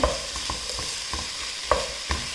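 Chopped tomatoes and masala are stirred in a pan for chicken angara curry, with a soft sizzle under rhythmic spoon scrapes and knocks roughly every half second, one sharper clack among them.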